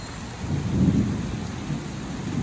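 Thunder rumbles low beneath steady rainfall during a night rainstorm, the roll swelling near the middle and easing back into the constant patter of rain.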